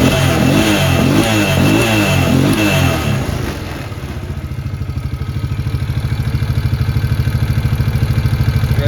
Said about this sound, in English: Revs up good.